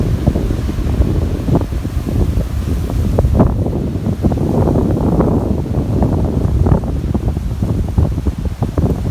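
Strong wind buffets the microphone in continuous loud gusts on the coast at Sanary, France, with the roar of surf blended underneath.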